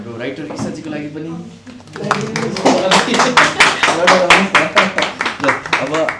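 Cast and crew on a United Cements commercial set break into dense, rhythmic group applause for the writer after a short quieter spell, with voices chattering over the clapping.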